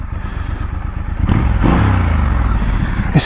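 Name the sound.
Triumph Scrambler 1200 XE motorcycle engine rumble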